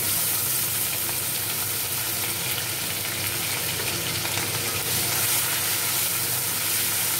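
Dry red chillies and bay leaves sizzling in hot oil in a home kitchen: a steady, loud, even crackle and hiss that runs unbroken throughout, with no voices.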